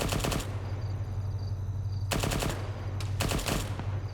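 Bursts of suppressed SOCOM 16 rifle fire in a tactical shooter match, loud rapid strings of shots in three separate volleys over continuous low battlefield rumble.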